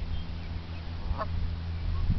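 A single short honk from a goose rings out midway over a low rumbling background, nearby and moderately loud.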